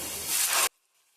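Spices with turmeric and cumin frying in hot oil for a Bengali elephant foot yam curry, a loud steady sizzle that swells briefly and then cuts off abruptly.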